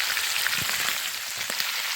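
Beef liver with chopped onions frying in a pan, a steady close sizzle and crackle with small pops, no talking.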